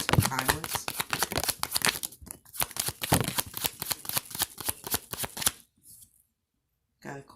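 Tarot cards being shuffled in a rapid riffling burst through most of the stretch, close and crisp, with a brief pause and a short final flurry; a voice speaks at the start.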